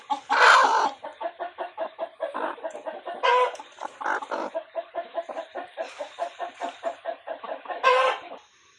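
A hen clucks steadily while being settled onto a clutch of eggs in a coop at night, giving a close, rhythmic run of repeated clucks broken by a few louder squawking bursts, with no talk over it.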